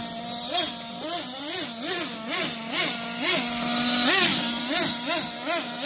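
A Losi LST XXL RC truck's nitro engine with a worn carburetor runs nearby, its high buzzing note surging and dipping in rapid repeated throttle blips.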